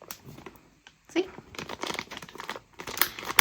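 Crinkly plastic rustling with a short series of zipping scrapes as a Mylar zip pouch is sealed, close and moderately loud.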